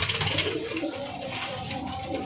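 Madras and Giribaz pigeons coo in a loft, a dense, continuous murmur of low, rolling coos from several birds close by.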